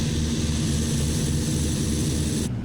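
CAP 4 Paulistinha propeller plane in a flight simulator game, with a steady, loud engine drone and propeller hum throughout, flying at low speed, with no talking.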